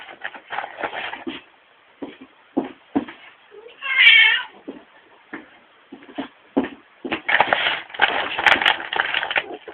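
A house cat meows to be let out, a few clear close cries in the middle of the clip, amid shuffling and crinkling wrapping paper while gifts are being wrapped.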